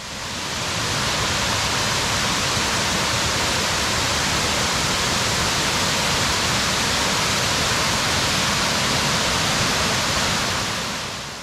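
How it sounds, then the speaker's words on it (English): A large waterfall in Luang Prabang, Laos roars as a loud, unbroken wash of rushing water that holds steady throughout with no voices. "There is the big waterfall."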